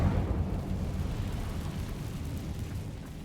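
A fire spell in a Harry Potter video game releases a heavy, rumbling whoosh and burst that hits loudly at the start and then fades into a low, roaring tail.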